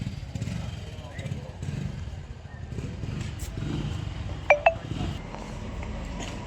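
Motorbike ridden up near a house, a low engine rumble running under close conversation, with two short sharp beeps partway through.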